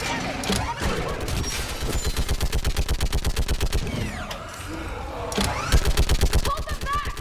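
A mounted gun in Mass Effect 3 fires long, fast, steady bursts of heavy automatic shots, with a short break in the middle, loud and close, with voices shouting over the battle.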